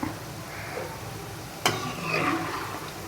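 Bengali-style semolina sweets fry in a pan with a low, steady sizzle, broken by one sharp clack midway before the frying grows slightly louder and busier.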